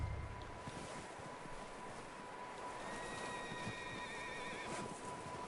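A horse neighs from inside a barn in Red Dead Redemption 2, its whinny rising from the middle of the stretch over a windy outdoor ambience with a steady background tone.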